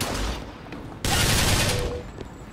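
Shotgun blasts in the video game BioShock Infinite: Burial at Sea, a loud broadband burst at the start and a second heavy boom about a second in with a long sustained roar, no talk.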